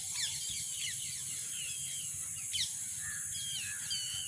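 Several birds chirp and trill outdoors in a village garden over a steady high hiss of insects, with quick sweeping calls scattered across the moment, fairly faint.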